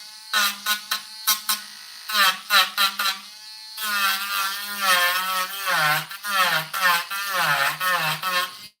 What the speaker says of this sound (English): And now I'm just grinding the plastic weld